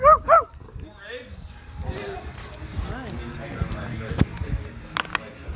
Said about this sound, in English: Get away from me, dogs.